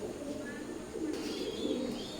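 Teddy pigeons of an imported Oman Teddy bloodline cooing in a loft, a low repeated rolling coo that pulses through the whole stretch with a soft background hum and faint chirps.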